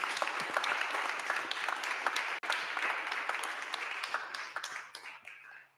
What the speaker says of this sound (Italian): un applauso per favore